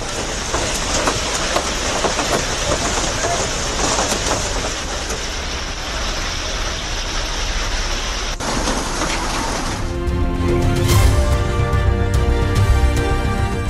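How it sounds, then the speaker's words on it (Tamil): Hail pelts down during a hailstorm with strong wind in Punjab, a dense, loud, continuous clatter and roar that shifts near the end to a heavier rumbling wash. "பஞ்சாபின் பல்வேறு பகுதிகளில் பலத்த காற்றுடன் பெய்த ஆலங்கட்டி மழை."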